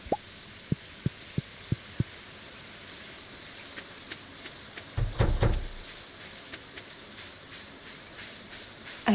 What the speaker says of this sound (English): Day 3 is always a rainy day.